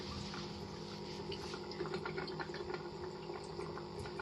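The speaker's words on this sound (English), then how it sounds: "So now the system is struggling to hold on the water in the grow bed. In a moment you can see it's already starting to flush." Water flushes steadily from the siphon of an aquaponics gumball-unit grow bed, a continuous low gurgling rush with faint trickles, heard alone and fairly quiet throughout.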